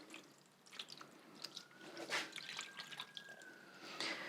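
Water is poured into the bottom of a broccoli microgreens growing tray, a faint irregular trickle with small splashes and drips, close and quiet throughout.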